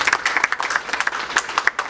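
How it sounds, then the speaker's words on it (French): A small crowd claps at a church reflection conference, the individual hand claps sharp and distinct in a quick, uneven patter with no voices over them. "On applaudit le frère Contino."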